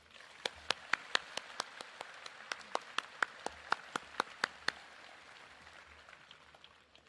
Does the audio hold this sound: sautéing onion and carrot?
no